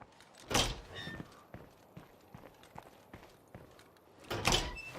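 Door being tried in State of Decay 2, a rattling thunk at the start and another at the end, with soft footstep-like taps between, fairly quiet and with no one talking.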